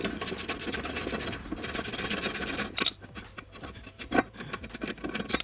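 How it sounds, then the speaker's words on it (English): Metal bolt being unscrewed from a lawn mower blade, heard as steady rubbing, rasping scrapes with a few sharp clinks near the end, close and fairly loud with no talking. "now I can unscrew this bolt"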